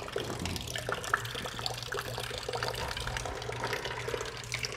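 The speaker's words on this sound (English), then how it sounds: "so that water can bubble up out of the reservoir body" Water drains and bubbles out of the windscreen washer fluid reservoir of an Aston Martin DB9 in a steady, faint, continuous trickle with no talk.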